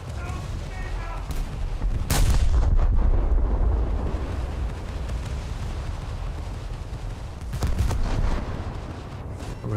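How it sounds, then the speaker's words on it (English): Heavy naval guns fire shells from the Von der Tann in a naval warfare game, with deep booming blasts and a rumbling low roar between them, loud and continuous. "I think I'll be able to lob a shell over that island."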